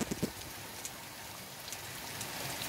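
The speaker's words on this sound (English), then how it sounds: "Rain, rain, rain and rain." Rain falls steadily outside a winter house, a soft, even hiss of drops on surfaces with a few closer taps at the start, faint and continuous throughout.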